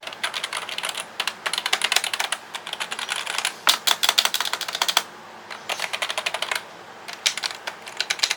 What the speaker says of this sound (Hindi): आवाज सुना देता हूँ कीबोर्ड की।